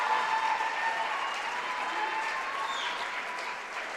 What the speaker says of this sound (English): Very classy gesture from the Golden Bear team and staff, standing and clapping for her and congratulating her.